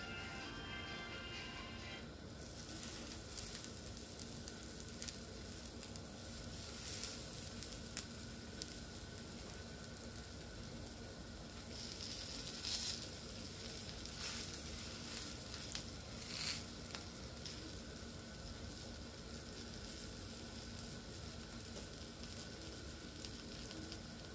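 Semolina harcha flatbreads cooking slowly in a pan over low heat give a steady, close sizzle with soft crackle and light patter throughout, with no talking.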